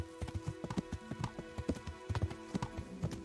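Horse hooves clip-clopping in Kingdom Come: Deliverance, a steady rapid rhythm of close, distinct hoofbeats with the faint tinkle of tack, heard alone with no talk.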